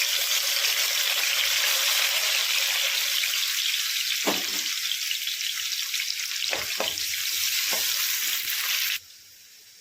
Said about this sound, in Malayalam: നമ്മൾ അരിഞ്ഞു വെച്ചിരിക്കുന്ന ഉള്ളിയിൽ നിന്ന് ഒരു ശകലം ഇതിനകത്തോട്ട് ഒന്ന് മൂപ്പിച്ചെടുക്കാം.